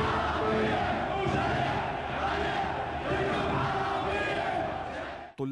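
Students on a protest march toward Tahrir Square in Baghdad chant slogans in unison, a loud, dense mass of voices with a steady rhythmic swell that cuts off abruptly at the end.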